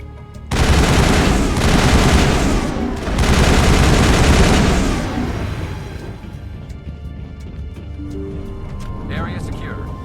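Sustained automatic gunfire from a Mass Effect 1 firefight, loud and dense for several seconds with a brief dip, then tapering into quieter ambient game noise.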